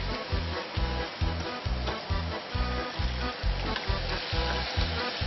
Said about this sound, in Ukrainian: і зараз перемішуємо